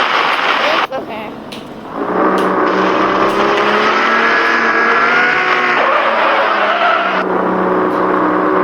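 A luxury car in drift mode, engine revving hard with rising and falling tones and a brief dip before building again, loud and close throughout.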